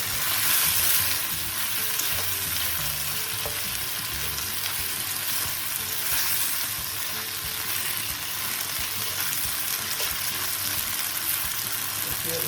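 Thin slices of belly pork stir-frying with double chilli in a hot wok, a dense, continuous loud sizzle with faint tossing and stirring noise running throughout, close up, with no voices.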